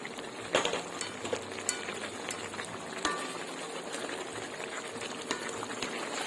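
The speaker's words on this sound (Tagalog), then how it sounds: "Busin ko na yung cornstarch" Chicken and liver sauce with vegetables bubbling in a pan as cornstarch goes in, soft steady simmering crackle with a few sharper clicks of stirring, quiet and close.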